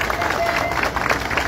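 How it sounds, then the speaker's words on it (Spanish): Crowd of workers at a labour federation gathering applauds a congresswoman, a dense, steady clapping with a murmur of crowd babble mixed underneath. "Un fuerte aplauso para ella."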